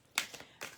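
A pack of cards is shuffled by hand at close range, with two short riffling bursts and a few faint taps between them.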